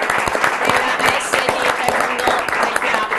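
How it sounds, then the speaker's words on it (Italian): Audience applause at a martial arts event in Veneto, steady dense clapping filling the room throughout, fairly loud and continuous. "un applauso anche"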